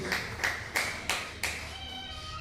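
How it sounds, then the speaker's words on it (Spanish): Church congregation clapping in a rhythmic series of about five distinct, evenly spaced claps, moderately loud and close, followed by a faint tail. "Aplauda fuerte el nombre de Jesús"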